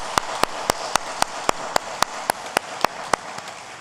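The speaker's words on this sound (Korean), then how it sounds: "우리 하나님께 영광의 박수 올려드리겠습니다." A church congregation applauds during a Sunday daytime service: a dense bed of clapping with sharp, evenly spaced claps keeping a steady rhythm throughout, with no talk.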